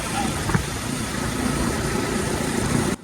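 Yamaha R15 motorcycle engine running, a steady continuous rumble held at an even level throughout before cutting off abruptly at the end.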